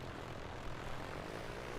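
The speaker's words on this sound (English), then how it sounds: "There's actually a real airplane landing here right now." A real airplane landing at an Alaska airfield, heard as a steady, broad propeller-engine drone that stays constant and fairly distant throughout, with no voices.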